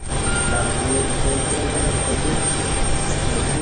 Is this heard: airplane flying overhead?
yes